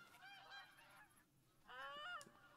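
Ducks call overhead in The Hunter: Call of the Wild, a faint, continuous run of nasal honks that dips briefly and then swells again toward the end.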